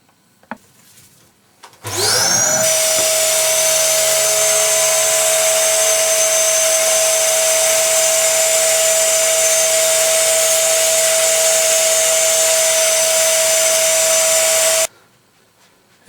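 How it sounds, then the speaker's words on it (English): A vacuum cleaner switches on loudly and runs at a steady, piercing whine for about thirteen seconds, sucking dust and debris out of the body cavity and neck pocket of a disassembled electric guitar, then cuts off abruptly. "We're now going to suck out any dust or debris from the cavity here or the neck pocket"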